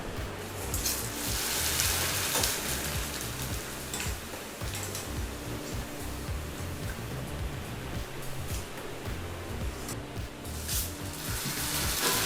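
Heavy rain pours outside a home kitchen where corn flakes are being deep fried for churumuri, a dense steady hiss that fills the whole stretch at even loudness without any talking.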